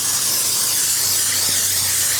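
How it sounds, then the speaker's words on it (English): Cooking spray hisses from a can into a casserole dish for a hashbrown casserole, one steady close burst of broadband hiss lasting about two seconds with no talking. "I'm gonna go ahead and spray my little casserole dish."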